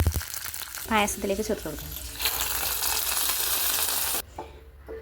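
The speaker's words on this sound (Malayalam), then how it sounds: "നെയ്യ് ചൂടായി വന്നിട്ടുണ്ട്. ഇതിലേക്ക് അണ്ടിപ്പരിപ്പ്, മുന്തിരി ചേർത്ത് കൊടുക്കാം." Cashews and raisins fry in hot ghee for aval payasam, starting with a short spoken phrase and a crinkle, then a loud, dense crackling sizzle that stops abruptly near the end.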